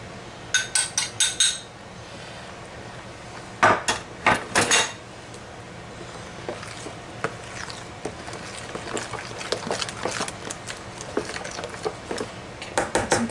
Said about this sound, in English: Then I'm going to take my eggs and I'm just going to break them in here, mix them up.